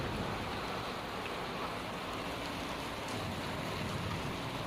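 A dense, steady roar of heavy rain during a road journey through Karnataka fills the whole stretch, constant and broadband, with no voices.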